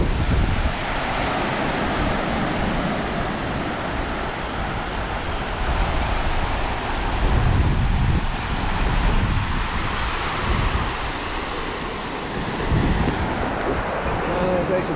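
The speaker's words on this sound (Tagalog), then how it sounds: "sa dagat ng Nova Scotia" Ocean waves wash continuously onto a cold Nova Scotia beach, a steady roaring surf with heavy wind buffeting the microphone throughout.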